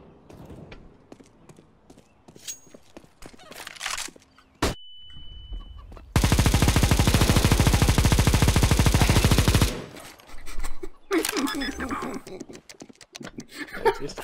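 Sustained burst of M249 machine gun fire in Counter-Strike, a dense rapid rattle lasting several seconds, loud and close, with scattered game sounds and brief chatter around it.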